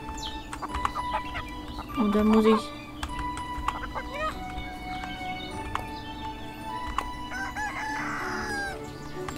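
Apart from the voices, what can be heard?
chickens clucking and crowing, from the video game Everdream Valley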